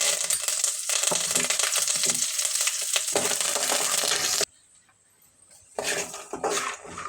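A tempering of chana dal, urad dal, mustard seeds, cumin, fenugreek, curry leaves and dried red chillies spits and crackles loudly in hot oil for lemon pulihora, going quiet for over a second before the sizzling picks up again.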